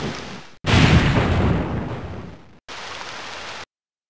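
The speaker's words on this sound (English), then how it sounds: "It wasn't much fun sitting up there not speaking, especially when it began to rain." Heavy rain hisses loudly in a Berenstain Bears PC game scene, a dense steady downpour broken into two stretches with a brief gap between them, with no voices over it.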